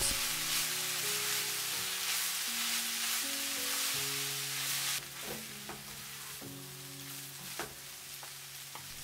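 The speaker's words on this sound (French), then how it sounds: "J'ajoute finalement les carottes râpées et les vermicelles de soja. Je remue de temps en temps pendant 2 minutes." Grated carrots and soy vermicelli sizzle steadily in a hot pan, a soft continuous frying hiss, with the clicks and scrapes of occasional stirring near the end and quiet music underneath.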